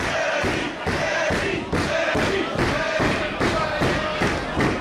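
During a live independent wrestling match, the crowd rallies behind a wrestler with loud, rhythmic clapping or stomping in regular pulses, close and energetic throughout.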